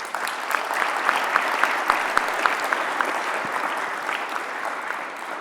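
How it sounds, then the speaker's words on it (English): An audience at a panel discussion on the future of work applauds, a dense burst of clapping that holds steady for several seconds and then thins out. "Please help me give them a round of applause."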